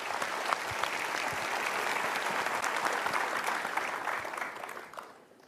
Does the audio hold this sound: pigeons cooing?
no